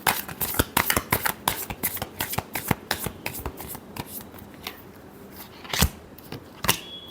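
Tarot cards being shuffled by hand, a quick series of sharp riffling snaps and slaps, close and crisp, thinning out into a few isolated flicks.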